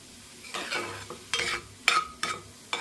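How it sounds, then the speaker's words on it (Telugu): Dal prasadam being stirred and mixed in a pan, giving a few separate scraping and mixing strokes with short pauses between them, close and fairly quiet. "చూడండి ఇలా మొత్తం కలిసేలాగా కలిపేసుకోవాలి"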